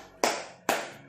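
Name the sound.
class doing a rhythmic spirit clap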